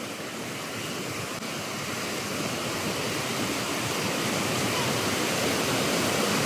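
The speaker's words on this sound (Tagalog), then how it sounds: "Ang daming area ng falls." A multi-tiered waterfall in the Philippines roars with many cascades, a loud, steady broadband rush of falling water that swells slightly over time with no break.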